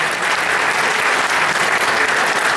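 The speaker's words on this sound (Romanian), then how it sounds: "Merită aplauze entuziaste." Enthusiastic audience applause for a choir at a romance-song concert, a dense, steady wash of clapping close up that carries on without a break and with no voices.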